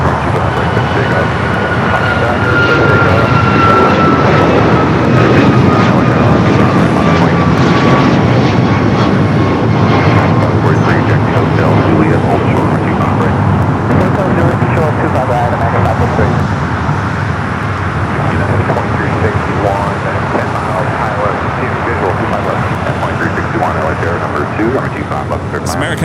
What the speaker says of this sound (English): Next takeoff, Alaska Flight 233 heading to Newark, a 737 MAX 9.